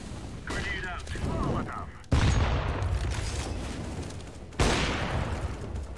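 Sharp video game gunfire blasts burst suddenly, two loud shots several seconds apart, each followed by a booming decay, with game noises and faint talk earlier.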